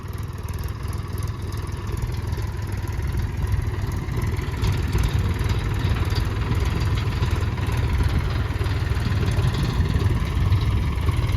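A tractor engine runs with a steady, rough, low clattering drone, loud and close, holding at a fairly even level as the accelerator is pressed.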